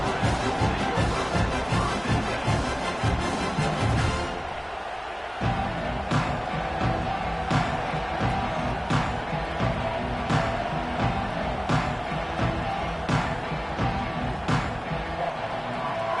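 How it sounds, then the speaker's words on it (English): A football stadium crowd roars steadily throughout, a loud broad wash of cheering from the stands with a brief dip in the middle before it swells again. "This crowd ready to make its presence known."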